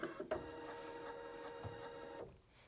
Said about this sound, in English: The machine calibrates a little bit